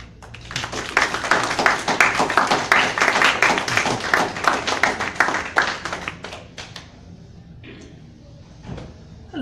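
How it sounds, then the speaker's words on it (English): An audience applauds a poet at an outdoor poetry reading, with dense, close clapping that builds quickly, holds for several seconds and then thins to a few scattered claps. "Give another round of applause for Ianthe"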